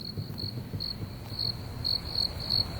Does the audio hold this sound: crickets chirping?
yes